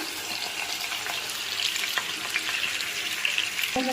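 Green chillies, tomato and onions frying in oil with mustard seeds and cumin for a fish curry: a close, steady sizzle with light stirring scrapes, ending in a sharp clink of a utensil.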